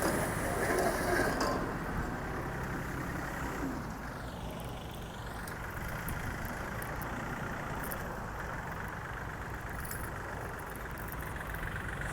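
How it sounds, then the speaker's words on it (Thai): Three-cylinder 39 hp Yanmar engine on a used tractor runs steadily, a continuous close mechanical rumble with no speech over it. "วันนี้จะพาลูกค้าทุกท่านมาชม วิดีโอการทำงานจริงเลยค่ะ การทำงานจริงของเครื่องยนต์กันเลย"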